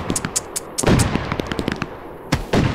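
Firecrackers going off in the Fireworks Mania video game, a rapid irregular string of loud sharp cracks and pops in clusters, close and punchy, with a short lull midway before another burst.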